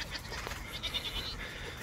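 Goats on a farm bleat in a noisy outdoor setting, a few short, close calls over constant background rustle and wind.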